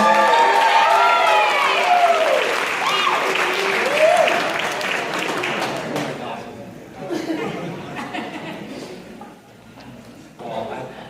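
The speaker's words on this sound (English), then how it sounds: "round of applause to Mr. Charlie Gergosa, ladies and gentlemen" Wedding reception guests break into loud, sustained applause for Mr. Charlie Gergosa, with chatter and a few cheers mixed in, the clapping thinning out in the second half to scattered bursts under crowd murmur.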